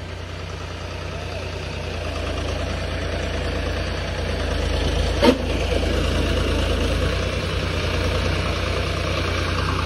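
A Ford tractor engine runs steadily at idle for the whole stretch, a loud, close, even mechanical drone with one brief sharp knock midway.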